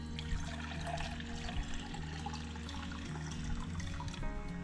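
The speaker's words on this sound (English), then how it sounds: "Mike, pour the contents of that snow globe into this measuring cup here." Water and glitter poured out of a Disney 101 Dalmatians snow globe into a measuring cup, a steady gurgling pour with a faint trickle, close and moderately quiet.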